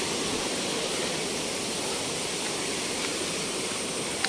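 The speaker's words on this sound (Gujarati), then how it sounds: "સામે ઝરણા પણ વહી રહ્યા છે" A steady, unbroken rush of flowing water, like a stream running down a hillside at Pavagadh nearby, with no voices and no change in level throughout.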